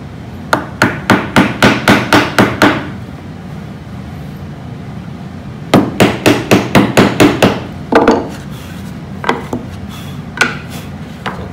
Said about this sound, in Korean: 일단 망치로 한 번씩 제거를 해 줄게요.